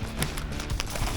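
Horses walking through the Colombian countryside, hooves clip-clopping in an uneven rhythm on the ground, close and clear with no talking.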